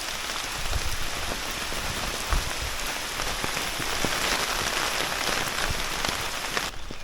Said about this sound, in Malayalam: മുന്നോട്ട് പോകുന്നതോറും അത്യാവശ്യം നല്ല മഴ പെയ്യാൻ തുടങ്ങി. നല്ല മഴയായി.